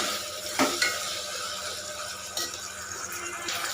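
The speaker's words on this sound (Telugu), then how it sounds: "టమాటోలు మంచిగా ఫ్రై చేసుకోవాలి బాగా" Chopped tomato pieces frying in a pan for mushroom pulao, a close continuous sizzle broken by a few clinks and scrapes of a spatula, with no voices.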